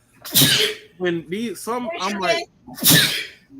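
Two sharp sneezes, one near the start and another a few seconds later, with someone talking briefly between them.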